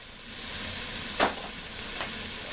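Tomato paste being stirred into marinara sauce frying in a pan, a low steady sizzle with one brief scraping stir in the middle and a fainter one later.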